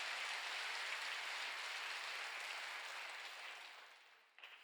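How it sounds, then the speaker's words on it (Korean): Sustained applause from a church congregation at a Jesus-centered church service, a dense wash of clapping that holds steady for several seconds and then tapers off near the end. "박수."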